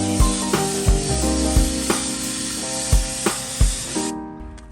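A continuous pressurized spray of tar waterproofing onto a house foundation hisses close by, pulsing in short repeated bursts as the sprayer moves, then cuts off abruptly near the end.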